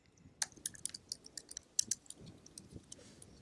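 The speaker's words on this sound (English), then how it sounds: "He's typing." Faint, quick clicks of typing on a computer keyboard during a remote interview, irregular light taps spread across the moment with no voice over them.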